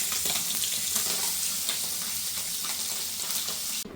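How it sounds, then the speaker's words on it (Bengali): Stem vegetable curry with koi fish cooking in a pan, a steady close sizzling and bubbling that holds evenly throughout and stops abruptly at the end. "দেখেন ডাটার তরকারি রান্না করা হচ্ছে কই মাছ দিয়ে"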